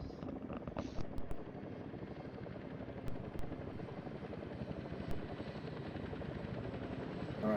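A helicopter in the combat game ARMA 3 drones steadily throughout, its rotor thump and engine roar filling the scene at a constant, fairly loud level with no talk over it.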